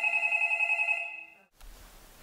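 A telephone bell rings steadily inside a Swiss village school building that serves as a theatre ticket office, a loud continuous trill for about one and a half seconds that then stops, leaving faint room noise.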